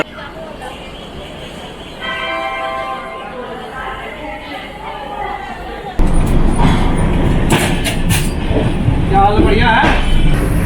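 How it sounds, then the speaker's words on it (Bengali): A passenger train running from Sealdah toward New Delhi rumbles and clatters on the rails, growing noticeably louder midway, with a person talking over the steady interior noise. "আমাদের ট্রেনটা এখানে ছেড়ে দিয়েছে শিয়ালদা স্টেশন থেকে নিউ দিল্লির উদ্দেশ্যে"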